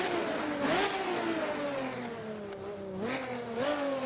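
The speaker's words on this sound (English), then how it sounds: "The wannabe V12 sounds," A Bugatti EB110 V12 mod in the Assetto Corsa racing game revs and accelerates, its engine pitch climbing steadily with brief dips at gear changes, a loud continuous whine with nobody talking.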